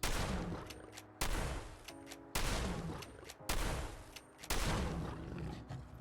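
A handmade lever action shotgun firing plasma-infused shells in Fallout 4, five heavy booming shots at a steady pace about a second apart, each followed by brief mechanical clatter and decay.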